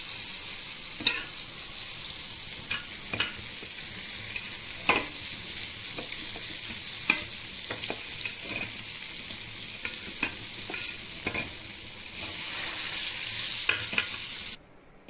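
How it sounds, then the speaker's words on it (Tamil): An egg fries in hot oil in a pan with a loud, continuous close sizzle, broken by scattered spatula clicks and scrapes at irregular intervals, then cuts off abruptly at the end. "முட்டை வறுத்துக்கலாம்."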